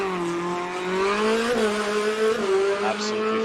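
A rally car drives the gravel section of a stage at an Eastern European Rally Championship round in Poland. Its engine holds a steady, strained drone with brief dips where gears shift, loud and continuous.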